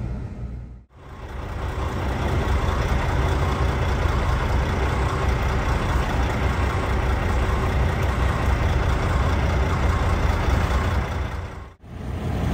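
Truck engine idling while the driver reverses toward a trailer to line up the turntable, a loud, steady diesel rumble running throughout, with brief cutouts near the start and end.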